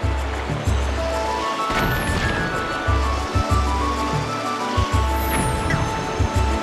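Water sloshing and splashing around a moving boat in The Legend of Zelda: Twilight Princess, with steady broadband wash and low rhythmic thumps, game boating sounds with background music.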